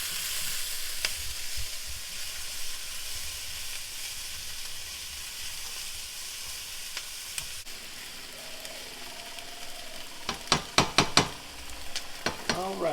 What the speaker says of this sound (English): So the vegetables are sauteed enough.